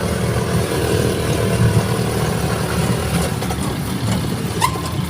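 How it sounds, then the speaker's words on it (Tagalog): A noisy vehicle engine heard from inside during a drive, a constant loud, rough mechanical drone with no pauses and no speech. "Maingay yung sasakyan natin."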